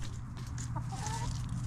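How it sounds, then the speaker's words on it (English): Chickens loose in a garden bed cluck softly and intermittently at close range, with low background rumble. "The chickens are out here in this bed."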